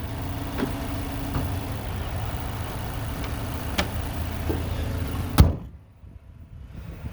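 A 2017 Mazda3 Grand Touring idles nearby with a few faint clicks, then its door shuts with a single solid thump that cuts the engine noise to a muffled hush.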